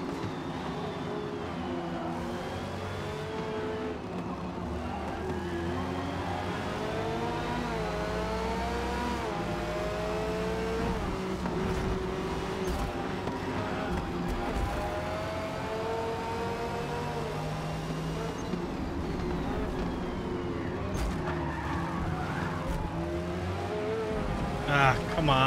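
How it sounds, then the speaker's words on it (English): Race cars in Forza Motorsport lap the Daytona-style raceway in open R class, producing a steady loud roar of revving, shifting engines throughout, with a player talking over the game sound. "we're back here in Forza Motorsports, and we're in open R class at the off-brand Daytona Raceway"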